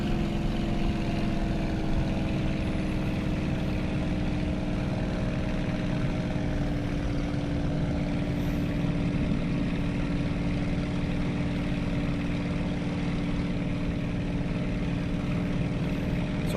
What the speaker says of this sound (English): I'll give you an idea of the throttling back here.